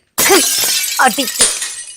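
A car window's glass shatters in a loud, close crash, with a sharp burst of breaking glass followed by a second impact and a brief scattering of fragments.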